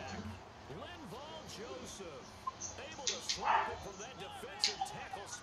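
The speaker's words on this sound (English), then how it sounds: "Oh, my dog's barking." Faint dog barks and yips in the background, scattered and irregular, with a few sharper louder yelps near the end.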